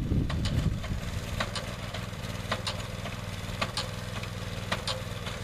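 A small engine runs on a steady idle while a 5 kW wind turbine is lowered, with a rough chug throughout and regular sharp clicks over it, near and continuous with no talk.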